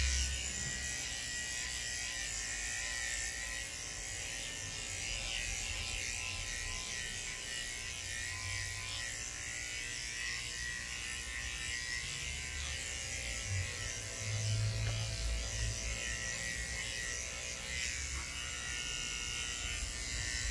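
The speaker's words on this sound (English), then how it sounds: "That's as much as I would clipper on Oscar" Electric dog clippers run steadily across a dog's coat, a close, continuous motor buzz with a mechanical ratcheting edge that swells slightly as the blades pass through the fur.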